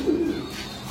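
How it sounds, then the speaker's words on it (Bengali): Male breeder pigeons give a single short, close coo at moderate loudness, with no talking over it. "এই হচ্ছে নরগুলো, এগুলো সব আমার বিডার কবুতর।"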